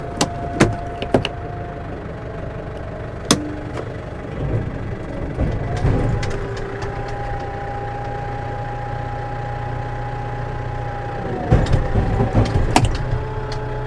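A 540 engine running after a prop shaft repair, a low steady idle hum with a faint whining tone, broken by a few sharp knocks and clunks near the start and again toward the end.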